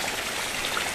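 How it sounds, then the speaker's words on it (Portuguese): Heavy rain falling in Ariquemes, Rondônia, a dense, steady hiss of countless drops spread evenly across the moment, fairly close and continuous with no voices. "Hoje está chovendo muito para perceber."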